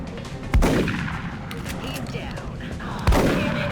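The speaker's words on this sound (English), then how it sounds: "And then you can take this shot, rapid fire." In the XCOM Enemy Within video game, a soldier's rapid-fire attack sounds as two heavy gunfire blasts a few seconds apart over a steady, dense game soundscape.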